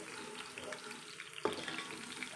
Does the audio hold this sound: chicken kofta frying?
yes